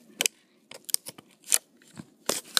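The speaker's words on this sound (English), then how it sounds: "And then I'll cut out the binky." Scissors snipping plastic packaging to free a small toy bottle from a Calico Critters set, several crisp close cuts in an uneven rhythm with brief rustles between, no voices.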